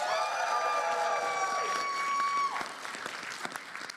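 A crowd at a Kingdom Hearts panel at PAX East 2020 gives a round of applause, with clapping and cheering under a sustained musical tone that cuts off midway, after which sparser claps trail on.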